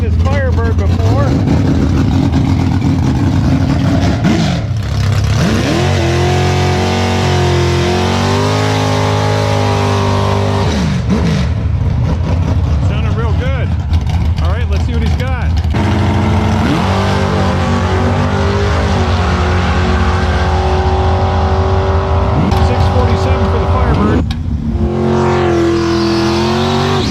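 Drag racing cars, including a Firebird, roar down the strip at Showtime Dragstrip, with loud engine revs rising in pitch through hard acceleration runs and pauses between, while a commentator talks over them.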